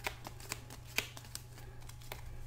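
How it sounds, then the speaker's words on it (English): Playing cards are shuffled for a tabletop board game, a quick run of soft riffling flicks and taps, close and quiet over a faint low hum. "Alright, so we're shuffling this up."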